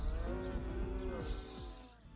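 Cow mooing in the Çiftlik Bank farming mobile game: several drawn-out, sweeping lowing calls that rise and fall in quick succession, loud and close, with no talking.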